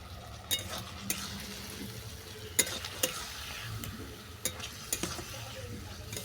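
Dried red chillies and torn green chillies frying in a pan for a vegetarian kantola curry, with a soft steady sizzle under intermittent scraping and clinks of a stirring spoon, close and fairly quiet.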